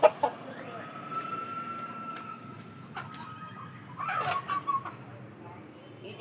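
Hens and a rooster, including an English fighter-breed hen and village hens, cluck and call at moderate distance in an outdoor yard, with soft human talk and background noise underneath.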